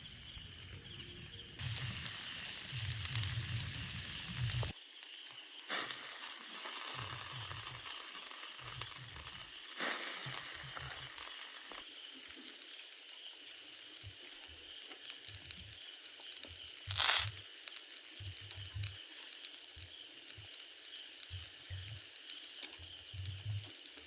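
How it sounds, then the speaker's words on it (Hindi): Chicken fat dripping onto a campfire outdoors during a stormy camping trip, a faint, continuous hissing sizzle with scattered soft pops and crackles, steady and distant-sounding, with no talk. "और ये जो चिकन से तेल गिर रहे हैं, इससे थोड़ी थोड़ी आग के लपटे भी उठ रहे हैं ऊपर"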